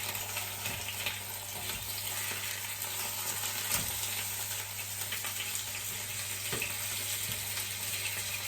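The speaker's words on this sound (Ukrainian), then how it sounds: "цибулю я висмажую на тому жирі, що залишається від висмажування цього м'яска" Onion frying in the fat left over from browning meat in a small home kitchen, a steady close sizzle under a constant hum, with occasional light clicks and stirring knocks and no talking.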